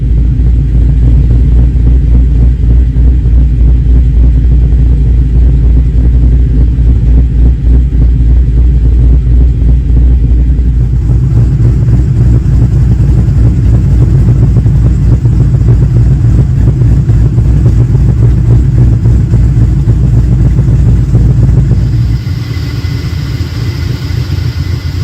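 Rebuilt engine of a 2001 Ford Mustang Bullitt running steadily, a loud close low rumble at idle with a slight shift in pitch midway and a drop toward the end, no voices.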